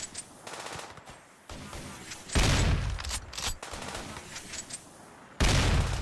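Gunfire in the Rimworld video game during a search-and-destroy attack on hives, repeated bursts of rapid shots with several louder booming volleys, fairly faint overall.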